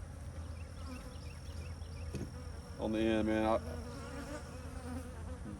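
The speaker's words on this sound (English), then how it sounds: "That box is still just millions of bees" Honey bees swarm out of an opened hive box in a dense, steady buzz, with a louder close pass of wings swelling briefly near the middle; a voice speaks a few faint words.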